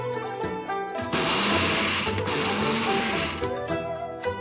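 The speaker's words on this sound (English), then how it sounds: "I'm using the multi-chopper to speed up my preparation process." An electric multi-chopper whirs loudly as it chops spices for a sweet and sour sea cucumber dish, a short burst of grinding motor noise over background music that plays before and after.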